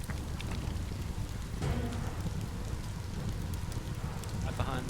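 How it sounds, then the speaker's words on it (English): Rain pours in the video game Biomutant, a dense steady patter mixed with a crackling fire, while a voice talks over it. "It's raining"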